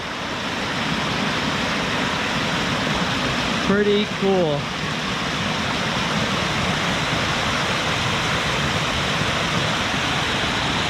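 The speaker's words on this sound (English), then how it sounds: "It's a log waterfall." Water pours steadily over a log waterfall at Foxes Falls, New York, a broad, constant rushing roar. A voice speaks briefly near the middle.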